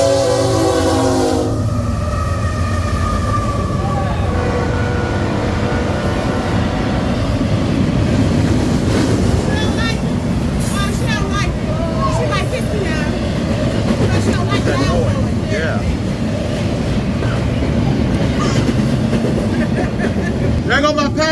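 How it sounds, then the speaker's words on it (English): Train passing through Gary, Indiana, opening with a horn blast, then a loud continuous rumble and clatter of railcars rolling by close for the full stretch, with squealing wheel noise on top. "And there goes the train."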